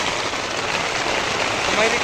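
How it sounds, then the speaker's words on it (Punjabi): Steady, dense hiss of heavy rain pouring down nearby on a farm field during a storm, constant and fairly loud with no pauses. "ਮੀਂਹ ਪੈਣ ਲੱਗ ਗਿਆ ਬਹੁਤ ਜ਼ਿਆਦਾ ਆਪਣੇ ਖੇਤ ਚ"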